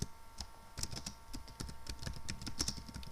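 Fast, close typing on a computer keyboard, a quick irregular stream of light key clicks with short pauses, quiet and with no voice over it.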